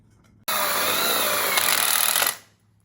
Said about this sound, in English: Lock them in with screws and then screw them into the frame.